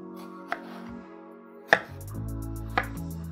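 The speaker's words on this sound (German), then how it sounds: "sie dann in mundgerechte Stücke schneiden" Knife chopping peeled melon into bite-sized pieces on a cutting board for a fruity chicken cheeseburger, three separate sharp thunks spaced about a second apart, close and clear with no talking.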